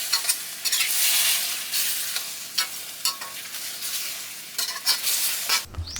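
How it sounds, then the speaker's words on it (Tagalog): Beef seasoned with fish sauce being stirred in a hot pan for a Filipino beef afritada, with a steady loud sizzle broken by repeated scraping strokes of the spatula; no talking. "Halo-halo lang mga kayam para manuot ang ating panimpla dito sa ating karne."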